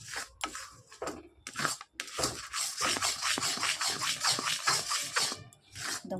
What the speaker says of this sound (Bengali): এবার ভালো করে এটাকে নাড়িয়ে ভালো করে মিশিয়ে দেবো গুড়টার সাথে